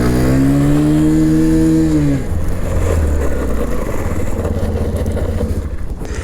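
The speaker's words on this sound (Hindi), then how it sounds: "अब मैंने एबीएस बाइक उठा ली है और देखते हैं ये किस तरीके से परफॉर्म करता है इस ग्रेवल पे" A Bajaj Platina 110 ABS motorcycle hums with a steady engine tone, then rolls onto gravel where a loud, rough crunching rumble of tyres on loose stones takes over.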